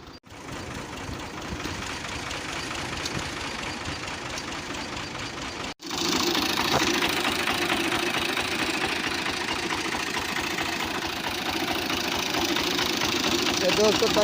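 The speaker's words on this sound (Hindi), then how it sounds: "पवे ना ट्रैक्टर तो नाल थे इतना वाला ही जाता" Diesel tractor engine idling steadily up close, a loud continuous knocking rumble that drops out briefly and returns slightly louder.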